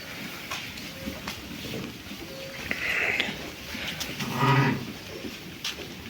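Sheep on a livestock farm in Ukraine's Ternopil region, with a couple of bleats or animal calls rising briefly over a steady, murmuring farmyard background.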